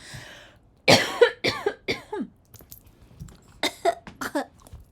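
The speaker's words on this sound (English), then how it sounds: "I have to cough." Several close, sharp coughs in two quick bursts, separated by a short quiet pause.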